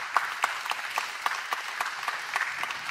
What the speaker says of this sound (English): And so y'all just give Tristan one more hand of applause for me.